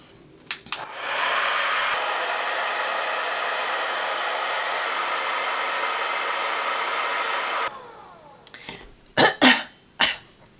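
A hair dryer blows steadily at close range for several seconds, then shuts off, followed by a couple of coughs.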